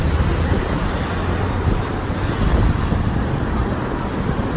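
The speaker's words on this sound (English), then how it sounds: "it's quite noisy because of the traffic on the road" Steady, loud road traffic roar on a busy London street between Baker Street and Marble Arch, a continuous rumble of passing cars with gusty wind noise.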